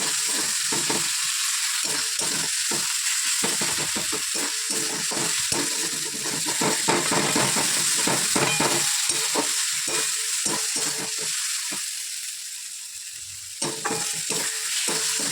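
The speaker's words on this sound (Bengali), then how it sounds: "এটা ভাজা হলে ওটা দিয়ে দেবো দিয়ে ভালো করে কষিয়ে কষিয়ে রান্না করবো" A spice mixture fries in a pan while being stirred and scraped hard, giving a continuous sizzle broken by rhythmic, repeated scraping strokes, without any talk.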